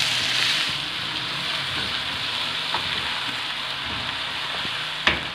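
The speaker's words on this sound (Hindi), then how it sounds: "अदरक लहसुन को सौते करके ये साथ ही मैंने डाल दिए हैं टमाटर" Ginger, garlic and tomatoes sizzle steadily in a hot pan for an aloo keema curry, a continuous close frying hiss with faint stirring scrapes and one sharper clink near the end.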